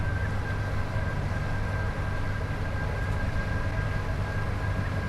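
A Class 87 electric locomotive running in Train Sim World 6, giving a steady, loud low rumble and rolling drone with a faint constant whine above it, continuous and with no talking.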